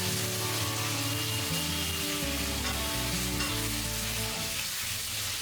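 Potatoes frying in oil over medium heat with black cumin and green chilli for aloo posto, a steady, dense sizzle that continues unbroken throughout, with no voices.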